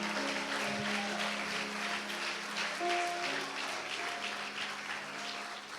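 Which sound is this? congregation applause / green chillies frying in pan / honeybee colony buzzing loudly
congregation applause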